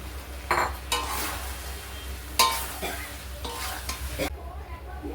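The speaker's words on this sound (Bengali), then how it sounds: "আমি আলু পটলগুলো দিয়েও একটু ভালো করে এটাকে কষবো" Potatoes and pointed gourd stir-fried in a pan, with a spatula scraping and turning them in bursts over a steady close sizzle, and no talking.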